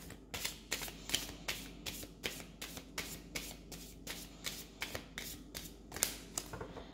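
Playing cards being riffled and shuffled over and over, a steady run of crisp fluttering bursts close by, with no talking.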